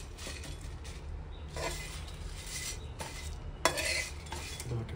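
A spice mix for chicken kanti is dry-roasted in a hot kadai. Quiet, repeated scraping strokes come in short bursts, with one sharper clink partway through and no voices.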